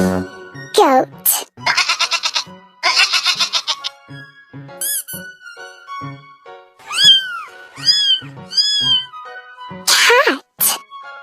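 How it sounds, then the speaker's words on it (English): A cat meows in several drawn-out, rising and falling calls in a row, loud and near, mixed in among other animal calls such as a goat's bleating. "Cat."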